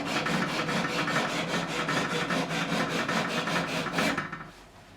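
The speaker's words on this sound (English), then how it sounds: "I'm just going to take my time with some 400 grit, and I'm just going to do this end." Fine 400 grit sandpaper rubbing back and forth on a fret end of a 1957 Hofner President guitar during a refret, quick even strokes about four per second, close and fairly quiet, then stopping abruptly.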